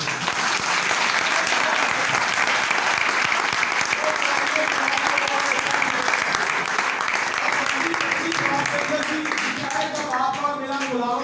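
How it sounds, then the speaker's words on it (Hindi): Loud, sustained applause from a church congregation for their pastor at a Sialkot service, dense clapping filling the whole stretch with crowd voices mixed in and a few louder tones toward the end. "अपने पास्टर के लिए जोरदार तालियां।"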